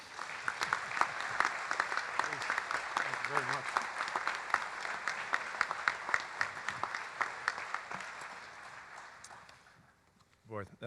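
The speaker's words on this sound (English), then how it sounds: "please join me in a round of applause" An audience applauds a guest speaker at a Veterans Day ceremony and sign dedication, with steady clapping and some louder individual claps that fade near the end before a voice begins to speak.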